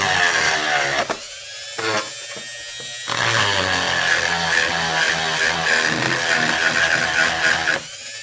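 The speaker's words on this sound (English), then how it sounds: "we're going to turn on the Dremel. And we're going to get the shaving just a tad bit" A Dremel rotary tool grinding down a part on a Cadillac CTS-V, a loud high whine that starts and stops in short bursts before running steadily for several seconds.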